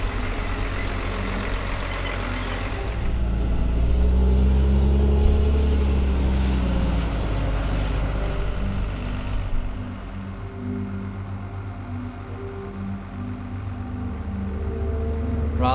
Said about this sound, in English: So now I simply drive to the paddock and start the job.